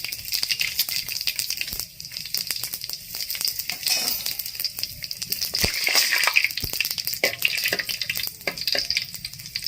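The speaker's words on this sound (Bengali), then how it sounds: "তেল গরম হয়ে গেছে, গোটা মশলা দিয়ে দিলাম।" Whole spices crackle and sizzle in hot oil for mutton kosha, a steady dense frying hiss with scattered pops and stirring rattles, close and loud throughout.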